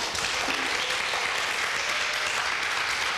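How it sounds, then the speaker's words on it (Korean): An audience applauds at a business speech event, dense continuous clapping from a crowd filling the room at steady volume throughout. "여러분 박수 쳐주고 너무 감사한데요"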